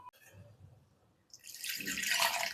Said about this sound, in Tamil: மிக்சி ஜாரில் கொஞ்சமாக தண்ணி விட்டு அலம்பி ஊற்றிக்கலாம்.